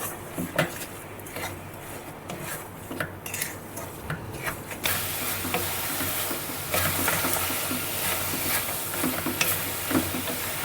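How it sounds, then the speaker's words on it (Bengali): Coconut and jaggery mixture stirred continuously in a pan over a low flame, with steady scraping and clinking of a spoon against the pan over a soft background sizzle, close and fairly loud. "লো আঁচে এটাকে আমি কন্টিনিউ নাড়াচাড়া করতে থাকবো।"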